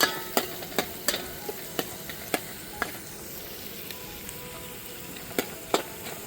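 Oil heats in a pan for a sev and onion dish, making a faint, soft frying hiss punctuated by sharp, scattered pops and crackles spaced irregularly.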